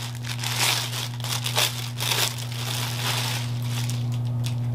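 Plastic packaging from a clothing order, holding a soft knit garment, crinkles and crunches in several bursts close up over a steady low electrical hum, with no talking.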